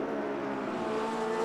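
Porsche 911 GT3 R race car in a sim racing game, climbing the hill on the Rahal Straight: a steady, sustained engine drone with no breaks at moderate volume.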